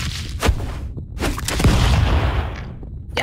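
Gunshots in the video game Stick Fight come as several sharp cracks at irregular intervals with rumbling booms between them, fairly loud and close.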